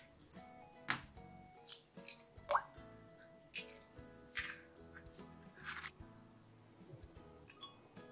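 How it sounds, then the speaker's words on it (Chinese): Two eggs are cracked into a bowl for a toast breakfast, giving sharp taps and wet drips and plops in a few close bursts, with no talking. "再打入2颗鸡蛋"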